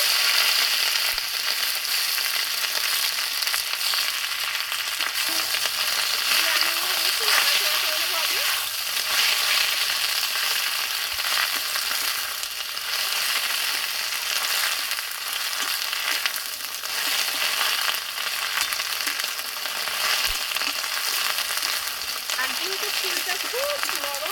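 Sliced onion and water lily flowers fry in oil in a pan, giving a loud, continuous sizzle that runs unbroken throughout, with occasional stirring scrapes and faint talk in the background.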